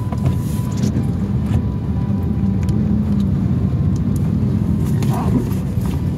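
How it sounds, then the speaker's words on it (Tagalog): A big truck drives along a road during flooding, its engine a steady, loud, continuous rumble with road noise that holds throughout. "Yung truck na malaki na yan."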